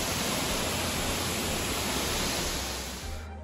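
Marmula waterfall in Vagamon, a steady, dense roar of falling water, loud and close, continuing unbroken before tailing off at the end.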